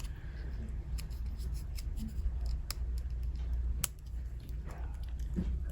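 Scissors snip through an index card, making several sharp, close clicks and crisp cuts over a low background hum.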